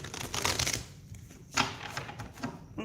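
A deck of tarot cards is shuffled up close in a short, quick run of soft riffling slaps and flutters.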